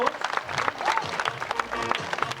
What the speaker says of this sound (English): That deserves a bit of a round of applause.